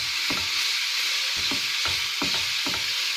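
Ground meat frying in a pan for Egyptian moussaka, a constant close hiss of sizzling with a series of scraping stir strokes at a slow, regular rhythm.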